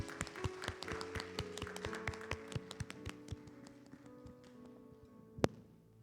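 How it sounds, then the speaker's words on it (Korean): A congregation in a Korean church worship service claps together, a run of sharp, evenly spaced claps that thins toward the end, with one louder final clap near the close. "우리 하나님께 영광의 박수 한번 드리고 마치겠습니다."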